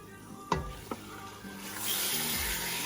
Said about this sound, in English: Now you just want to cook the meat with the onions and the garlic and all the spices for a few minutes.